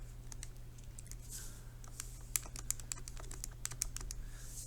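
Quick plastic clicks of graphing calculator keys as numbers are entered, a close, quiet run of irregular taps with brief pauses between bursts.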